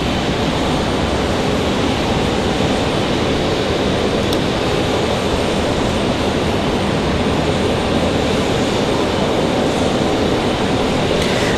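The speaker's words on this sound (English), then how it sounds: "So that Delta departure, that A220, that is headed to Boston." A Delta Airbus A220 departing Raleigh Durham International Airport, its jet engines roaring loud and continuous as a steady broadband rumble that holds throughout.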